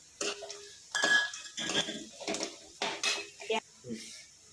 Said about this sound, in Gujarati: હવે આપણે બરાબર મિક્સ કરી લઈશું